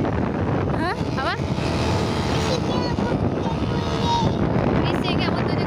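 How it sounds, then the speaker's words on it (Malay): A boat motor drones loudly and steadily during an island-hopping trip around Pulau Pangkor, mixed with wind buffeting and brief voices. "Bising kan motor juga?"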